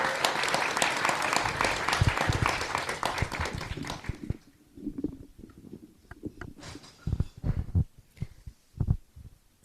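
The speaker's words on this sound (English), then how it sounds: "Let's give them a round of applause and welcome." Audience applause welcoming speakers at the Greater Baltimore Climate Summit, a dense burst of clapping for about four seconds that thins out, followed by sparse handling thumps and rustle near a microphone.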